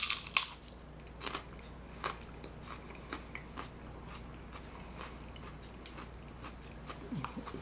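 Close, crisp biting and chewing of a crunchy unripe Purple UFO pepper, with a sharp bite near the start and irregular crunching bursts continuing throughout in a quiet room.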